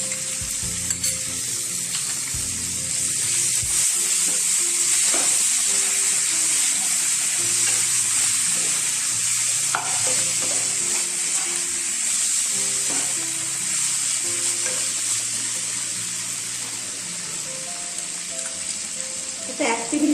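Food stir-fries in chili garlic sauce in a hot pan with a steady, loud hiss and sizzle and scattered scraping stirs throughout, with faint tonal background under it.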